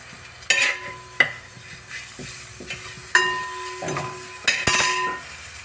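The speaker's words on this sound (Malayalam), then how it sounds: "ഈ പപ്പടം ഒന്ന് വറുത്ത് വറവാകുമ്പോഴത്തേനും" Oil sizzles steadily as papadam fries in a pan, broken by several sharp clinks and stirring bursts of utensils against the cookware, close and fairly loud.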